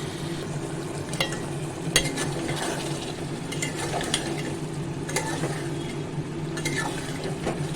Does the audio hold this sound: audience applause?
no